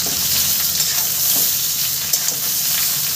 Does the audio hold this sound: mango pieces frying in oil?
yes